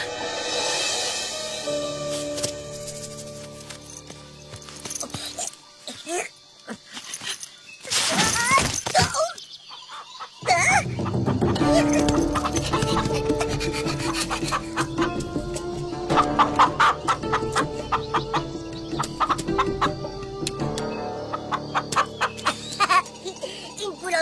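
An angora hen clucks amid a busy cartoon soundtrack, with music, abrupt effects and a loud crash mixed around the bird's short, irregular clucks.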